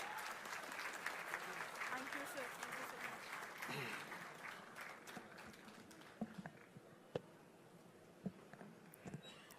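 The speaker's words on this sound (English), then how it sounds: "give a huge round of applause" Audience applause at a foundation laying ceremony for a defence engineering plant in Andhra Pradesh, a broad wash of clapping that fades after a few seconds into scattered claps and murmuring crowd noise.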